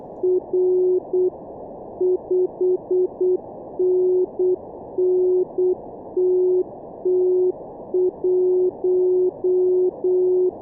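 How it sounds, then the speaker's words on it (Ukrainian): Morse code beeps from the Morse Runner contest simulator, a clean steady tone keyed in rapid dots and dashes, loud and alone with no talking. "оператор нам підтверджує, передає код R та передає рапорт та контрольний номер"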